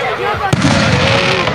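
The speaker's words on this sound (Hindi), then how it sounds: "जिस तरह की ये देखें आतिशबाजी हो रही है इतनी अच्छी तरह की" Fireworks go off during a celebration, with one sharp, loud burst cracking out amid continuous crowd noise and someone talking over it.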